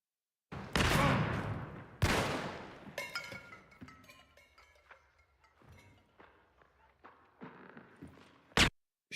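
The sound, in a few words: gunfire in a video game shooter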